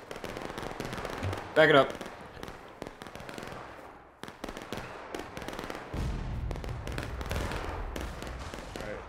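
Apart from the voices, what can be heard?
musket volley firing in the video game War of Rights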